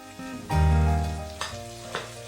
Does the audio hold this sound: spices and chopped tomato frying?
yes